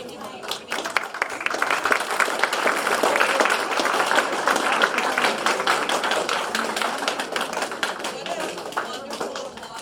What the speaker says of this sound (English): What a wonderful applause and nice welcome.